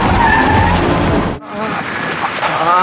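A car's tires screech loudly as it skids to a stop on a road, a sustained harsh squeal that breaks off briefly and then resumes with engine and road noise.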